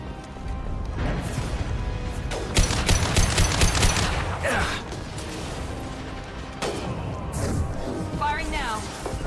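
Mass Effect 2 gunfight with bursts of rapid automatic fire, single heavy shots, impacts and crashes, all loud and continuous under a game soundtrack, while characters talk over the fighting.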